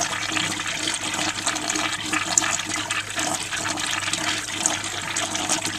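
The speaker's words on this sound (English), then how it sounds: "this is the 1940 standard Bering urinal, a great addition to our cabin, and I'll end with one more flush" Vintage 1940 Standard Bering urinal flushing up close, a steady rushing gush of water that holds strong for several seconds without a break.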